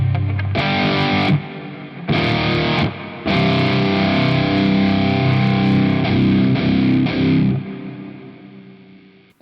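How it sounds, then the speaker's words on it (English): A distorted electric guitar strums heavy chords in bursts, drenched in a lush, spacious plate reverb that rings out and fades at the end. "Let's add some reverb. I'm gonna go for some plate lush."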